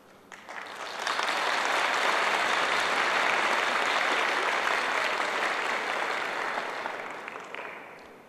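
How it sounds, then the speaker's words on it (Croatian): A live audience at a 2016 folk music festival bursts into loud applause for the performers. The clapping swells within a second, stays dense and steady for several seconds, then eases off toward the end. "naše izvođače, goste, popratite burnim pljeskom"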